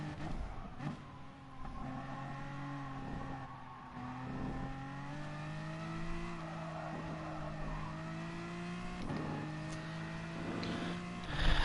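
A race car in Gran Turismo Sport laps Bathurst with a steady engine drone rising and falling through gear changes, occasional tire squeal, close and continuous without talk.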